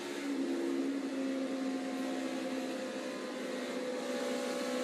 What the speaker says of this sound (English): Listen how much he's out of the throttle here.